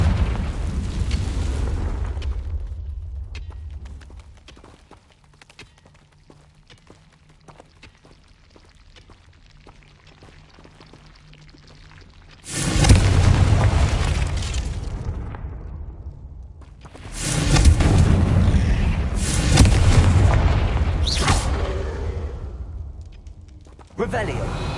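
A Confringo fire spell from Hogwarts Legacy goes off in two bursts, each a loud, deep blast with a rumbling roar that slowly fades. Between them the scene drops to quiet, with faint crackles and ambient sound.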